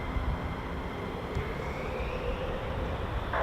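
A US Air Force F-15 or F-35 fighter jet from the 48th Fighter Wing flies overhead, giving a steady, moderately loud, distant engine roar and rumble with no speech.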